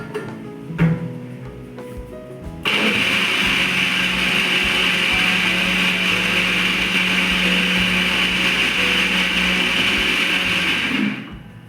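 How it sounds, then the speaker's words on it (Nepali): A kitchen mixer grinder runs on cooled ingredients for momo chutney. It starts after a few quiet seconds, then holds a loud, steady, high whirring grind for about nine seconds before cutting off, with no talk. "सेलाएर चाहिँ मिक्सरमा पिस्नेछु"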